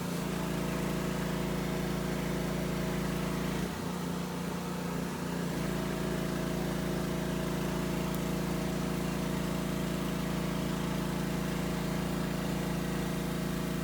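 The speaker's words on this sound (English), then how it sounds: "turning on and off his generator" A generator in a neighbouring workshop drones loudly and continuously, a low, steady engine hum that dips and wavers briefly partway through before settling back to a constant run.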